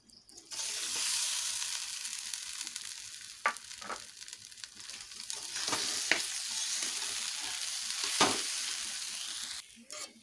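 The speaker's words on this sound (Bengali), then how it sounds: "চালগুলো আমার ভালোভাবে কষে নেওয়া হয়ে গেছে।" Gobindobhog rice fries with raisins and cashews in a pan for Basanti pulao, a steady sizzle broken by several sharp scrapes and clinks of the stirring spoon.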